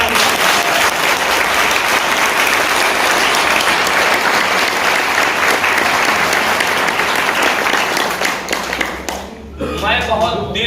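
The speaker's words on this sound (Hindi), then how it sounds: "इसलिए और एक बार जोरदार तालियां।" Loud, sustained applause from a large audience at a business success event, a dense wash of clapping that fades near the end as a voice begins speaking.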